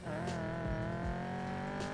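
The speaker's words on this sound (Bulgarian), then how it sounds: "Звучи супер чаржна сякаш този Мустанг." A Mustang's engine revs steadily in the racing game NFS Payback, a loud, continuous, harmonic drone with a slight tire edge and no talking over it.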